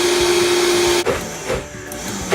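A high-powered blender grinds macadamia nuts, its motor roaring loud and close with a steady droning hum that shifts abruptly about halfway through as the load changes, followed by rougher, churning grinding noise.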